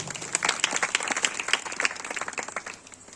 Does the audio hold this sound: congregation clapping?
yes